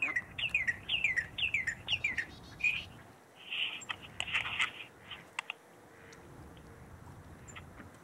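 A northern cardinal gives a quick series of bright, sharp chirps up close, a rhythmic run of repeated notes followed by scattered calls that fade into a quiet outdoor background.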